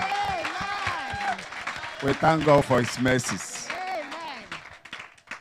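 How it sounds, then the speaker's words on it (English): Church congregation clapping at a Sunday service, a mixed burst of applause rising under a preacher's spoken words before fading back behind his voice. "give a clap offering to Jesus"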